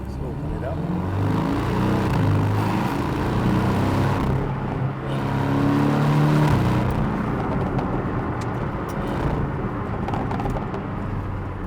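Porsche 718 GTS 2.5 with PDK gearbox accelerating hard, its engine note rising and falling in steady surges through gear changes over constant road and tyre roar, with no voices.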